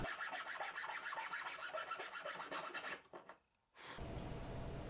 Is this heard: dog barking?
no